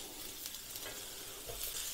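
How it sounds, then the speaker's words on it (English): Food sizzles in a hot frying pan ahead of burgers, a close, steady crackling hiss with a few soft scrapes and stirring sounds, no voices. "straight away you can hear that sizzle"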